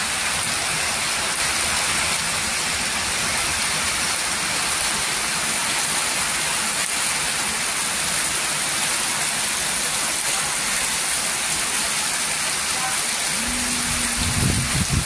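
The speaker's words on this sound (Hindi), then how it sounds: "आज बहुत जबरदस्त पानी है।" Heavy rain pours steadily in a dense, loud hiss for the whole stretch, with a brief low hum near the end.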